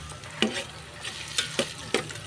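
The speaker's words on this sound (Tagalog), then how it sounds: "ayan, lagyan natin ng bawang." Garlic and ginger fry in a pan for native-chicken tinola: a steady soft sizzle broken by four sharp clinks and scrapes of a spoon stirring against the pan, close and alone without talk.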